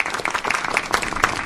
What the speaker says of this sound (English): please give Josh Edelman from the Bill and Melinda Gates Foundation your warmest applause